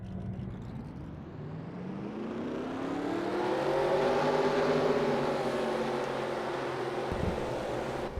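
Race car engines in a stock car racing video game roll off for a pace lap, a low droning rumble of several cars that swells gradually and holds steady, moderately quiet with no talk.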